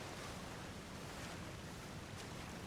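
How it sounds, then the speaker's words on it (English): A rushing waterfall in Pokemon Legends: Arceus, a steady broadband wash of falling water that holds constant and fairly loud throughout with no pauses. "It's a waterfall."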